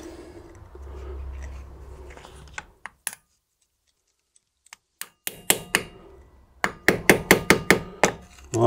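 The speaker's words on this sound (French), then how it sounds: "Je vais y aller au marteau." A hammer folds over the edge of a piece by hand, a quiet scraping start, a pause, then a run of sharp metallic blows in quick rhythmic succession, close and loud.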